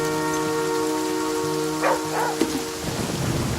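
Steady rain falls in the river-survival video game The Flame in the Flood, a constant hiss of drops under a low rumble and soft game tones, with no talking.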